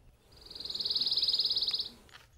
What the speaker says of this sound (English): Pine warbler,